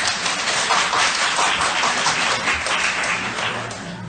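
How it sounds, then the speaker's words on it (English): Dense applause from an audience at a Temple City council meeting, many hands clapping steadily throughout and filling the room without a break, with no talk over it. "That's clapping."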